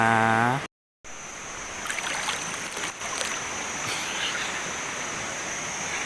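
Steady rushing water at Tha Sen waterfall, a continuous broadband wash that follows a brief voiced moment and a short gap, then holds at even loudness without talk.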